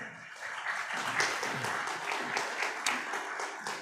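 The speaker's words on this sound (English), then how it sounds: "Ladies and gentlemen, let's give her a resounding round of applause." Audience applause at a scientific conference, a steady wash of clapping from a seated crowd lasting a few seconds at moderate level, with no speech over it.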